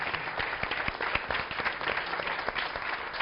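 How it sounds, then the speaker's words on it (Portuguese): Audience applause of thanks at the close of a televised philosophy café talk: dense, steady clapping from a room of people, sustained evenly from start to finish with individual claps popping out near the front. "Gostaríamos de encerrar com um aplauso de agradecimento."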